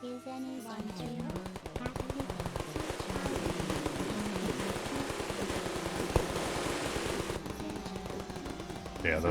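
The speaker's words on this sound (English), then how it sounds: "those big Gatling turrets, I have to keep putting ammo in those things" Gatling turrets in Minecraft fire in a sustained, rapid mechanical stream, a dense continuous rattle of shots lasting several seconds over a steady background, with a slight break near the end.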